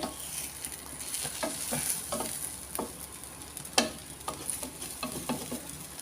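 A chicken omelette fries in a pan with a steady sizzle while a utensil stirs it in repeated scraping strokes, with no voices.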